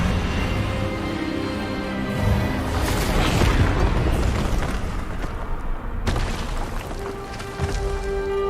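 In the Hogwarts Legacy video game, an Expelliarmus spell blast lands as a sustained booming crash with crackling energy, followed by a sharp second impact and a lingering tonal hum.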